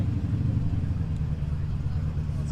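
A Ford GT40 race car on display at a concours event rumbles with a steady, low engine drone, fairly quiet and even throughout with no sharp revs.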